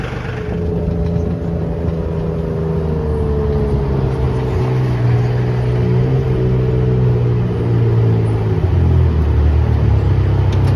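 A 45 horsepower engine mounted on a plastic sled idles while warming up, giving a loud, continuous, slightly choppy low rumble that holds steady throughout.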